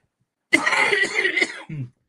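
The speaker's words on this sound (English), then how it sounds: "This whole live stream is just going to be me coughing." A harsh, rough coughing fit, close and loud, lasting over a second and ending with a short voiced catch of breath.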